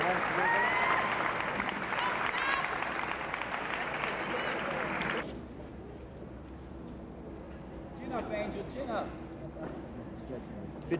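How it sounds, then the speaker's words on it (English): Loud applause from an audience at the 1993 US Taekwondo National Championships fills the first half, cheering a national champion, then stops abruptly, leaving a quieter room with some chatter and movement. "Nice big round of applause, national champion."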